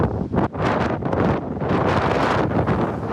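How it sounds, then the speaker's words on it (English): Strong windstorm gusts blow across open country in southern Manitoba near Elgin, roaring and buffeting the microphone in loud, surging waves with no speech. "As a windstorm blew across the southern part of the province"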